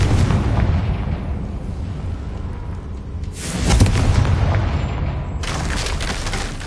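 Confringo fire spell explosions in the game Hogwarts Legacy: loud, booming blasts with rumbling, crackling decay, with a fresh burst near the middle and another near the end.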